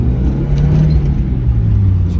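Mazda Miata engine running smoothly under light throttle while driving, a steady loud low rumble with gently rising and falling tone and no voices.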